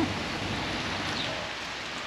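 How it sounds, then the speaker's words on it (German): Steady rain falls with a dense, even hiss that stays constant throughout, near and moderately loud, with no voices. "Weil Wetter halt regnet."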